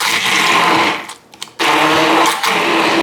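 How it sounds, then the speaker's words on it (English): A kitchen blender purees an onion with a loud, close, high whirring roar. It cuts out briefly, then starts again at full speed. "Blend an onion in there"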